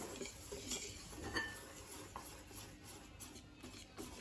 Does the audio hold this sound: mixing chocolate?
yes